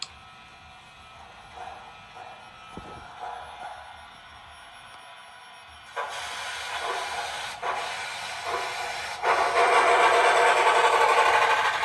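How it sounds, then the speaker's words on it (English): An HO-scale MTH DM&IR Yellowstone steam locomotive with a Soundtraxx Blunami decoder gives off hissing exhaust chuffs that step up from faint to loud and intense over the span. "So if it's going up a hill, the chuff will get louder and more intense."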